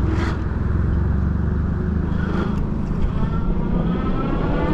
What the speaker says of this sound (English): I am going to throttle right here.